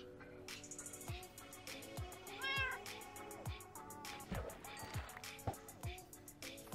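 A game cat meows several times in short, rising calls over soft background music and dripping water effects, quiet and close.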